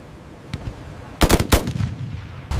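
Machine gun cover fire in a 1944 D-Day Omaha Beach battle scene: a few loud, rapid bursts of gunfire close together, followed by a quieter rattle and one more sharp burst at the end.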